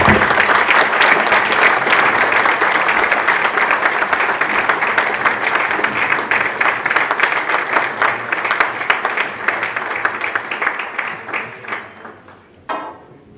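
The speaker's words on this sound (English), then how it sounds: "with a big round of applause" Sustained audience applause at a formal military-relations ceremony, a dense, steady wash of many hands clapping that holds loud for about eleven seconds before thinning into scattered claps and fading out.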